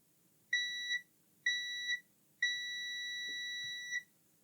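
Multimeter set to continuity, beeping while checking a fuse in a faulty Game Boy Micro: three clear, steady electronic tones, two short ones then a longer held one, close and alone in a quiet room.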